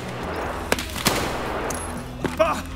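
Sharp gunshots from Escape from Tarkov, a few separate cracks spaced irregularly over a steady background, loud and close, with a voice talking around them.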